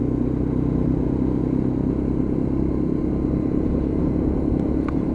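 Lexmoto LXR motorcycle engine cruising at a steady 3000 RPM, a constant low, chugging rumble heard close up with wind noise, unchanging throughout.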